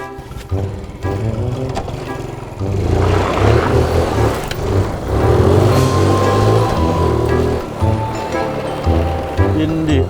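A car drives off, its engine rumble building and holding steady at close range, with people talking over it throughout.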